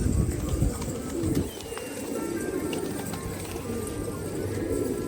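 Pigeons coo in low, repeated throaty calls, several birds close by, with a faint scuffling in the background.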